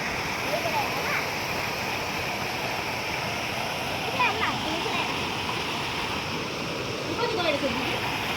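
A river flows outdoors in a steady, unbroken rush of water that stays fairly loud throughout, with faint voices now and then in the background.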